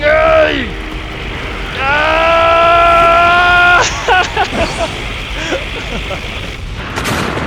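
Ultraseven's finishing beam attack in the fighting game Ultraman Fighting Evolution Rebirth, a rising electronic charge-up with stacked tonal whines followed by a burst of crackling blasts and impacts, loud and under a game's background noise.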